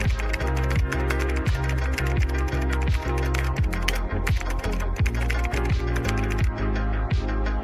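Steady, rapid clatter of keys on a computer keyboard as code is typed, close and loud with a fairly even rhythm and no voices.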